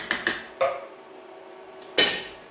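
A spoon clinks and scrapes against a pot while coconut cream is stirred into red curry, a few sharp metallic knocks spaced across a quiet stretch, close and fairly soft.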